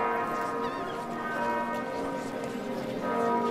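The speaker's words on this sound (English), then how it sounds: "those are the bells of the Sept of Baelor" Church bells of the Sept of Baelor in Game of Thrones ring in overlapping, sustained tones, a dense wash of resonant peals that stays steady and full throughout with no talk over it.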